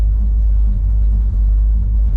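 A muscle car engine idles at a stoplight, heard from inside the car as a loud, steady low rumble with no talking.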